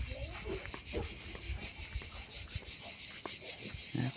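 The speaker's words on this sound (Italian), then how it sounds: "Con il canto della cicala si sente molto forte" Cicadas sing loudly and steadily in summer heat near a walnut tree, a high shrill drone running throughout with faint footsteps and small rustles beneath.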